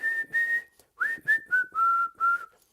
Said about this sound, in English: And then the end is whistling.